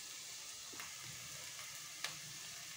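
Ginger and garlic frying in a pan for a tamarind fish curry, a quiet, steady hiss of oil with faint crackles and a small clink of a utensil, no talking.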